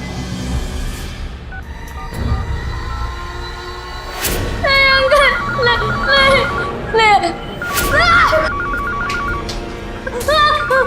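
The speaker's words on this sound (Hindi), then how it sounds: "भल्ला जी फोन नहीं उठा रहे हैं, शायद घर पे नहीं है।" A telephone rings repeatedly and goes unanswered, with several bursts of electronic ringing over a busy indoor background and people talking now and then.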